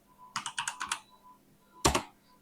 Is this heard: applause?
no